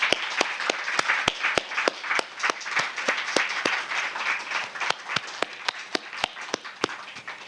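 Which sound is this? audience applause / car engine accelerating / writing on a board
audience applause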